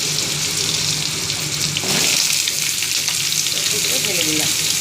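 Chopped vegetables tip into hot oil in a pan already holding a ground spice paste and five-spice tempering, setting off a loud, continuous close-up sizzle that surges as they land, with stirring and faint voice underneath.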